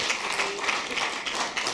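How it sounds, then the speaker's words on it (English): Church congregation applauding during an offering, a steady patter of hand claps at moderate volume, fairly distant and continuous throughout. "Give her a big round of applause."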